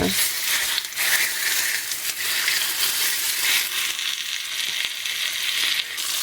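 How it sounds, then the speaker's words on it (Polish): Boiled pork knuckle sizzles and crackles steadily in a hot pan, a close, continuous spitting hiss with occasional stirring noises and no speech. "I tą stroną smażymy."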